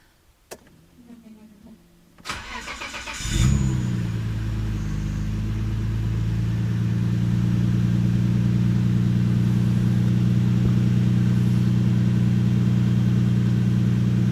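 A Nissan R32 Skyline engine with a new Optima battery cranks and catches, then settles into a steady idle hum that continues, preceded by a couple of faint clicks.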